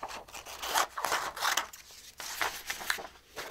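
Scrapbook paper being cut by hand with scissors, a run of close, quiet rustling snips and rubbing strokes in uneven bursts with brief pauses between.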